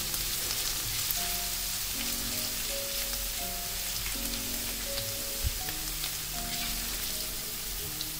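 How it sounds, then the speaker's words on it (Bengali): Chopped ginger and garlic fry briefly in oil while being stirred, the first step of a cauliflower Manchurian. A soft, even sizzle hisses throughout, with light crackles beneath a steady musical backing. "আদা রসুন কুচিটাকে কয়েক সেকেন্ডের জন্য তেলে প্রথমে একটু নেড়েচেড়ে ভেজে নিচ্ছি।"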